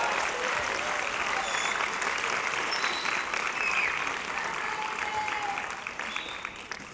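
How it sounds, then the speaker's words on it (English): Audience applause at a 5th grade graduation ceremony, a steady dense clapping from a crowd that holds evenly for several seconds before starting to thin out at the end. "You can clap for them again as they go off."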